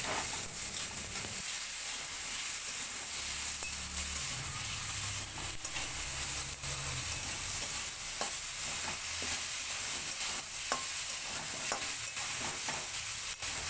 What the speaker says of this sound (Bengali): নুন আর হলুদ দিয়ে ভালো করে একটু নাড়িয়ে নেব।